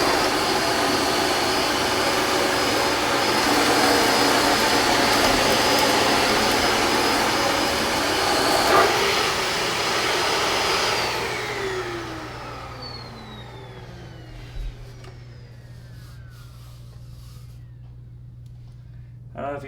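Dyson DC17 vacuum cleaner running on a hard floor with the brush roller off, a loud steady whine that winds down as the motor switches off, leaving quiet room tone with a few small knocks.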